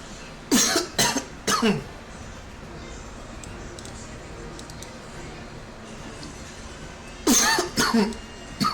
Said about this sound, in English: Sorry guys. Got a bad cough.